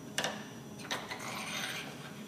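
A labyrinth part slides into the pump of a Taylor Frigomat C004/C007 whipped cream machine, making a couple of sharp plastic clicks followed by a soft sliding scrape, close and fairly quiet.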